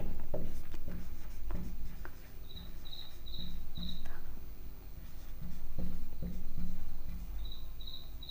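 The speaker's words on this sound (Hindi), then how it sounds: "तो यहां लिखेंगे पाइथागोरस" Pen scratching out a Pythagoras formula by hand on paper, in short close strokes, while crickets chirp steadily in the background.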